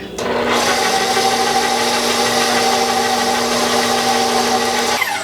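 A meat grinder works through beef and bacon in a kitchen with a steady, loud mechanical whir and grinding hum. It runs without a break for about five seconds, then stops abruptly.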